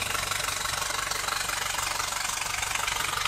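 An Isuzu Panther engine with heavy blow-by runs continuously, a steady, rough mechanical drone with a knocking edge and even pulsing, fairly faint and with no voices.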